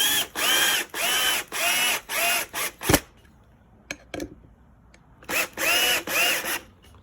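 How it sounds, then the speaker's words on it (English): A battery screwdriver drives screws into the handbrake brackets of a wooden BoxKart go-kart with loud, repeated whirring bursts. After a pause with a couple of knocks, a final few bursts follow. "When screwing down the handbrake brackets, it might be best to use a battery screwdriver."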